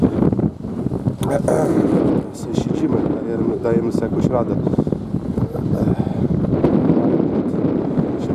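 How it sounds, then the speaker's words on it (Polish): Wind on a chairlift ride down from Gubałówka in Zakopane buffets the microphone in a constant heavy rumble while someone talks over it. "Buja, to wiatr wieje"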